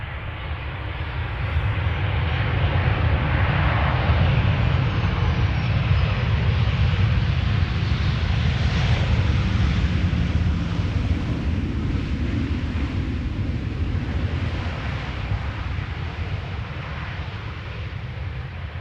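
A KLM Boeing 737-800 lands at Amsterdam Schiphol, a steady broad roar of engines and rushing air holding at a constant level for the whole stretch, dense and low-heavy with wind buffeting.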